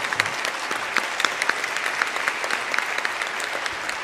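A church congregation at an induction service for elders and deaconesses claps together, a fairly soft steady patter of many hands from across the room, with no speech over it.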